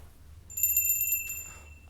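A small bell rung once during a city council meeting in Holland, giving a bright metallic ring that sustains for about a second before fading, heard over faint room hum.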